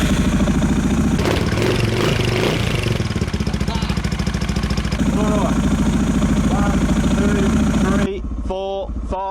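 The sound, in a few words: motorcycle engine running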